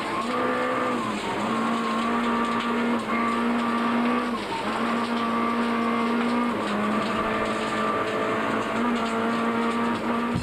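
Rally car engine heard from inside the cabin on a gravel stage at the 2002 Cape Rally, a steady loud drone with rising and falling revs and gear changes throughout, no talk.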